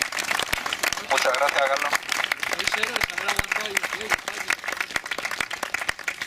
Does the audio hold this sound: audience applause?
yes